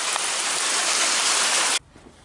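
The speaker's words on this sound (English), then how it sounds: "Well, it's pouring down rain." Heavy rain pours down steadily in a dense, loud wash around a big truck during parking brake chamber work, then cuts off abruptly near the end.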